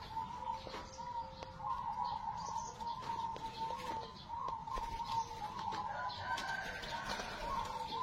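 A black-tailed zebra dove of the perkutut udan mas type coos in soft repeated phrases, faint and somewhat distant, with other birds chirping and a rooster-like call in the background.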